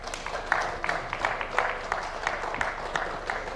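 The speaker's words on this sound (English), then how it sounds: "Another round of applause for Honorable Kimani." An audience at a National Assembly legislative retreat applauds Honorable Kimani with steady, dense clapping filling a large hall throughout.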